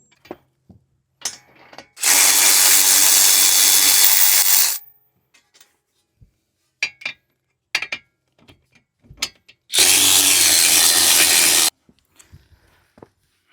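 A power tool removes caliper bracket bolts on a Toyota RAV4 during wheel bearing work, with two loud, steady whirring-rattling bursts of about two and three seconds separated by quiet clicks and taps of tools nearby.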